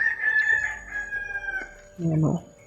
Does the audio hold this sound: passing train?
no